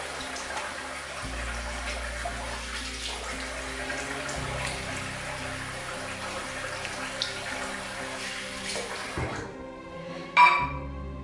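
A razor is rinsed under a running tap after a shave. Water pours steadily and fairly close for about nine seconds, then shuts off, followed by a brief clink.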